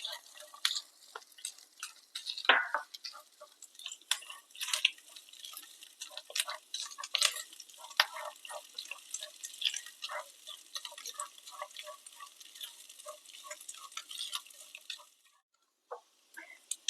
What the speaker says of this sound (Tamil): இப்போ சின்ன சின்னதாக கட் பண்ணி வச்சிருக்கிற தேங்காய் இதில் சேர்த்து நல்லா வாசனை வர்ற அளவுக்கு வறுத்து எடுத்துக்கலாம்